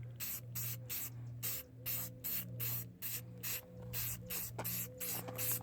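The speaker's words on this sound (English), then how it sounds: "we just hit it with some clear coat, and it's gonna look way better" Clear coat is sprayed from an aerosol can onto a faded T-Rex toy in a series of short, evenly spaced hissing bursts, close and steady, with a faint low hum underneath.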